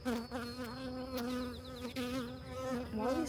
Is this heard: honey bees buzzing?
yes